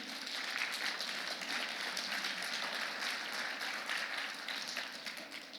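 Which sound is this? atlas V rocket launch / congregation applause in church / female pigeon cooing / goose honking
congregation applause in church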